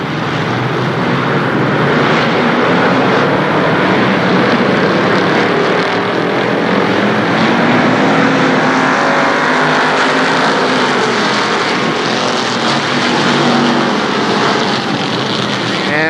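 Street stock race cars roaring around the oval at Shadybowl Speedway, a steady dense wall of engine noise from a full field, continuous and loud throughout with no gaps.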